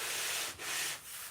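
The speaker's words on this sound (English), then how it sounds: "is sand a continuation of the foam" Foam wing for a model aircraft sanded by hand, a steady close abrasive rasp in three continuous strokes with brief dips between them, no voices.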